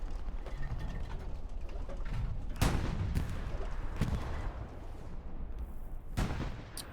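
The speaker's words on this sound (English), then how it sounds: "this tank is just going to continue on hammering down this area" Tank cannon fire in the Hell Let Loose war game: heavy booming shots land at irregular intervals, three or four loud blasts over a constant rumbling battlefield din with scattered mechanical clatter.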